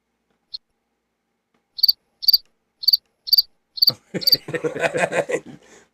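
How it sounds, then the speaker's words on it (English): Crickets chirp in a few sharp, close, evenly spaced bursts, one isolated chirp then a regular series, followed by a person talking over the end. "It's all crickets, baby."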